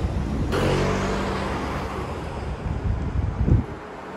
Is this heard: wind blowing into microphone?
yes